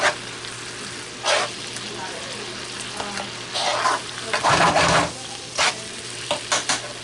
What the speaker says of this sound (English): So we're going to add to this half of a can or so of tomato sauce. Give it a quick stir.